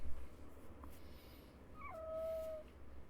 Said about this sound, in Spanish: Era un cachorro